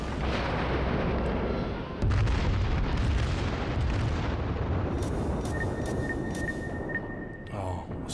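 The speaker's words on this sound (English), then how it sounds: "Now we're going to fire in gradual because the RNG is not with us right now." Battleship Amagi's main guns firing in World of Warships, heavy booming salvos rumbling loud and close, followed by a rhythmic sequence of metallic ticking game sounds.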